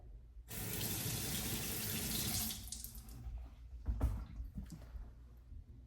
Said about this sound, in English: So I ran my hand under the water.